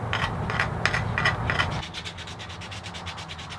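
A sharp point scrapes old finish off the knob of a Stanley #4 hand plane in a series of short, rhythmic rubbing strokes, steady at first and then lighter and more clipped, with no voices.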